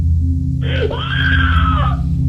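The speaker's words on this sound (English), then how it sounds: "she abruptly lets out a blood-curdling scream" A woman on a recorded phone call suddenly lets out a loud, sustained blood-curdling scream lasting over a second, rising and wavering in pitch above a steady low hum.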